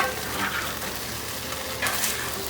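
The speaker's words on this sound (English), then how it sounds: "And time to add our tofu." Tofu goes into the pan for a tofu broccoli stir fry, a steady close sizzle of frying with a brief louder rush of crackling near the end.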